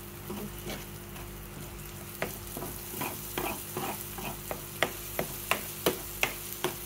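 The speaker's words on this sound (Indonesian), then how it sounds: "Gorengnya nih, enak. Harus goreng sampai dia wangi banget." Sizzling frying of a ground spice paste in a pan, steady crackle with scattered sharp pops and stirring scrapes that grow more frequent toward the end; no voices.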